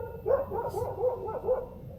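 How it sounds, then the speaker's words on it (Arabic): A dog barks repeatedly in short yelping bursts while chasing, several barks spaced about half a second apart at moderate distance. "يا ساتر كلب تكرمون لاحقني"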